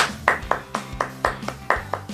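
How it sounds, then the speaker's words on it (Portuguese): A single pair of hands claps in a steady rhythm, about four sharp claps per second, close and clear. "tiro novamente alguns segundos para aplaudir esse tipo de pessoa"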